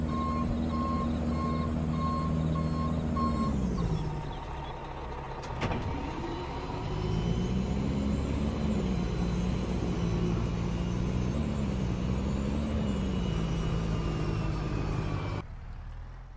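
A Western Star truck in Farming Simulator 22 rumbles steadily while tailgating gravel, its engine drone shifting pitch, with repeated reversing beeps early on and a brief clank partway through.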